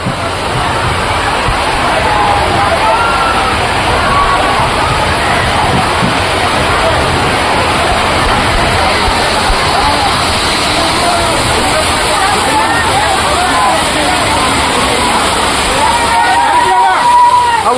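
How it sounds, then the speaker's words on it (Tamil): Stepping into a water park waterfall, with a constant loud rush and slosh of falling, splashing water and a crowd's babble and voices mixed underneath throughout. "அந்த வாட்டர் ஃபால்குள்ளே போகும்போது"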